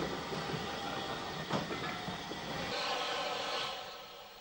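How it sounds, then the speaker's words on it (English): Narrow gauge locomotive Number 8 runs round its train at Loxwilly station in Letterkenny, Ireland, a steady rumble and clank of the engine and rolling stock with a brief knock partway through. "Number 8 runs round at Letterkenny at the Loxwilly station"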